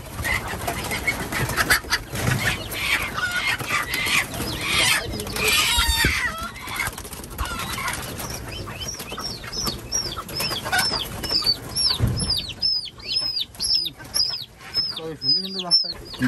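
Country chickens and pigeons on a farm fill the air with clucking and cooing, loud and close, with flapping and rustling early and a run of repeated sharp chirping calls toward the end.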